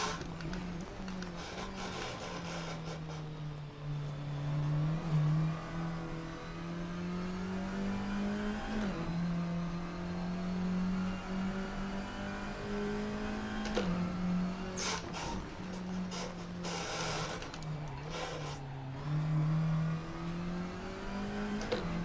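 A race car engine in Assetto Corsa revs and drops repeatedly as the tyres are warmed, pitch rising and falling under sharp bursts of higher whine, heard alone without talking.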